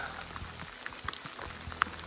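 Rain falls around a hiker high on the Appalachian Trail near Damascus, Virginia, with scattered drops pattering and ticking on nearby surfaces in an irregular, moderately close patter.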